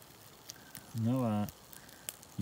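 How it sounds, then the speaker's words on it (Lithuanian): A small campfire lit with a single match, with kettles of water set beside it, on a trek near Nikkaluokta and Kebnekaise in northern Sweden, gives faint, sparse crackles. Someone speaks briefly over it. "jau laužiukas dega, katiliukai atnešti vandeniuko, dūmelis rūksta."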